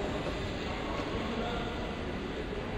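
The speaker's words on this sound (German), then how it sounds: "Drüben ist gerade der KI-Zug eingefahren mit 4 Wagen" A four-car Berlin U-Bahn train pulls into a station at night in Train Simulator, giving a steady rumbling rail drone with faint wheel noise that holds at an even level throughout.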